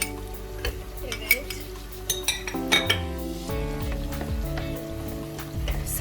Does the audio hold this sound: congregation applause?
no